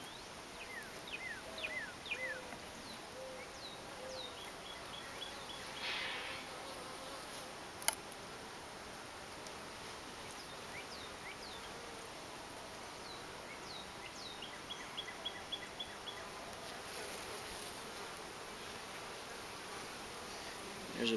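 Honey bees hum steadily around an open top bar hive, a faint, even buzz that continues throughout, with a few soft bird chirps in the background.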